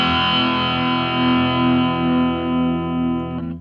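An electric guitar runs through a Hotone British Invasion Nano Legacy amp pedal with the gain near 3 o'clock, one loud sustained distorted chord that rings with slight wavering, then cuts off abruptly, with no voice.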